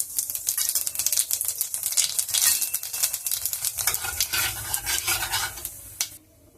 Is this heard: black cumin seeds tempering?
yes